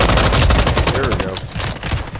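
Rapid automatic gunfire in the Roblox shooter Frontlines, a close, loud string of shots fired in quick rhythmic bursts, thinning slightly toward the end, with a voice briefly heard.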